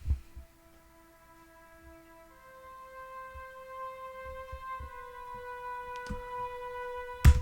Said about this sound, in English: It's really quiet. It's being played by a flute.